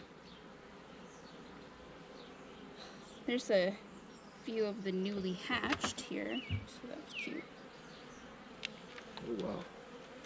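Honeybees buzz around an open hive frame of brood, pollen and stored bee bread, a steady insect hum with a few louder passes near the microphone, while people talk close by.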